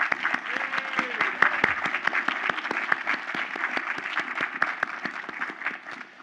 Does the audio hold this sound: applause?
yes